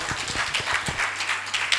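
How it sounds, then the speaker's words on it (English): An audience at a policy round table applauds, a steady dense wash of clapping from many hands filling the room without pause. "Please clap for them."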